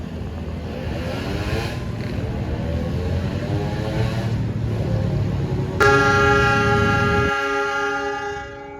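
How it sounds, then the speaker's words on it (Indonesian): A passenger train rumbles through a station in the evening, its wheels and carriages producing a steady roar. Partway through, a loud, sustained multi-tone horn cuts in, then the rumble drops away while the horn lingers. "ini sepertinya kereta api dari Jakarta"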